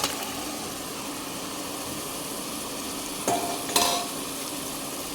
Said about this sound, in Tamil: இப்போ நம்ம கழுவி எடுத்து வச்சுருக்கிற அந்த சிக்கனை வந்து அதில் சேர்த்துக்கலாம்